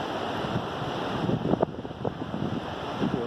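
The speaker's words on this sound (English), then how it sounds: "there's a fair degree of wind, and I wanted to see whether placing a microphone under my collar would cut the rumble on the mic" Wind rumble buffets a lavalier microphone on a breezy riverbank, a steady low roar with gusty bumps and surges throughout, no voices present.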